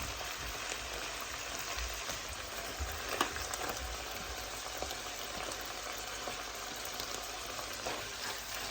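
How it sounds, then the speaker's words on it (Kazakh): Onions added to meat that has been stewed until its liquid cooked off, frying in a pan with a steady, dense sizzle and crackle, close up and even throughout, with no voices. "Жуамызды салып, тағы да 5 минут қуырып аламыз."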